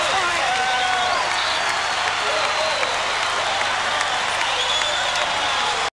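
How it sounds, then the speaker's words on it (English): A capacity crowd at the Glass House roars and cheers in a steady, dense wall of noise after North Melbourne's first-ever basketball championship win in the 1989 Grand Final against Canberra. "Listen to the crowd."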